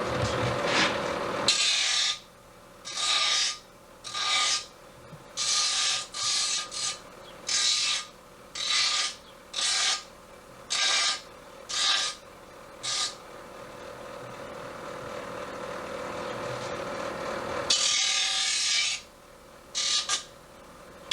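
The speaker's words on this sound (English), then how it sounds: "so I'm going to take the rim off now on the grinder." A bench grinder takes the rim off a beer can in a series of about a dozen short, harsh rasping bursts separated by pauses, with a longer grind near the end over a steady motor hum.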